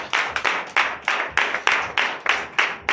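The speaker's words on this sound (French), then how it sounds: "je vous demande d'applaudir encore" Rhythmic clapping from a church congregation at a Sunday service in Benin, a brisk series of sharp, evenly spaced claps over three seconds with no talk.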